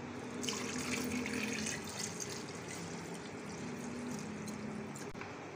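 Water pours steadily into a jug holding strawberries and black salt for strawberry juice, a continuous close splashing stream with no talk.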